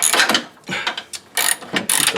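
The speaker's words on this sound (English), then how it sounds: "Put the wrench on it." A ratchet wrench working a front lower control arm bolt on a 1994 Saab 9000 gives several short bursts of quick, close, crisp ratcheting clicks with brief pauses between strokes.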